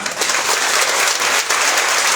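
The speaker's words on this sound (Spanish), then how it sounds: "un fuerte aplauso al Señor." A congregation at a church anniversary service in Ahuehuepan, Guerrero breaks into loud, steady applause, a dense wash of clapping hands close by that holds strong throughout.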